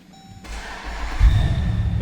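A 2014 Jeep Grand Cherokee SRT 4x4 engine cranks and catches close by, then settles into a loud, deep, steady idle.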